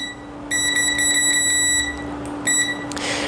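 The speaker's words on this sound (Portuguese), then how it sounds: "O multímetro, vamos colocar aqui na escala de bip." A digital multimeter set to continuity mode, probing a capacitor on a mobile phone circuit board, gives steady electronic beeps: a sustained tone broken into pulses, then a short second burst, close and clear with no speech.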